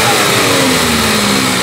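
An Opel Insignia GSI engine with its original downpipe runs loud and close, a steady dense roar held under throttle throughout, with no voices over it.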